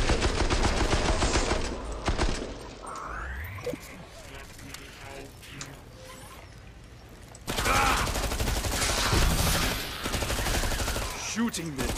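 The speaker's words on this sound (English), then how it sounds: "Shooting them is almost too easy." Bursts of weapon fire and mechanical reloading clatter in the video game Killing Floor 2, loud at first, dropping to a quieter mechanical stretch, then surging again into heavy shooting.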